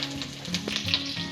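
Curry leaves sizzle and crackle steadily in hot oil for a Hindi-style potato and cluster bean sabzi, a continuous close frying hiss with no voices.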